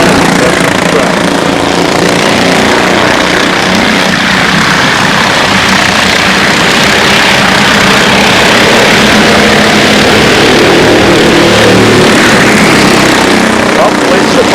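Racing trucks roar around the Grand Bend Speedway oval, a loud, steady, dense engine drone filling the whole stretch with no break, close and continuous.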